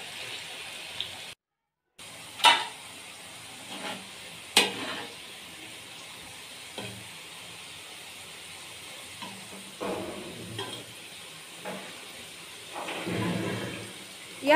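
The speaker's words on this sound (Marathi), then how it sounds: "या प्रकारे कांदा तळून घ्यायचा आहे." Onions frying in hot oil in a pan, a steady soft sizzle throughout with occasional sharp clinks and scrapes, fairly quiet and close.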